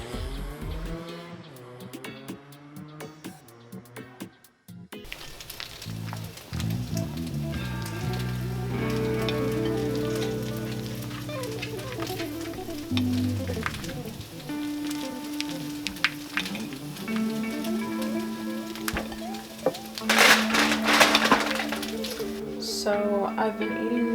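Spicy black bean burgers fry in a pan with a steady sizzle and crackle. Music plays over it, and the frying grows louder and more spattery toward the end.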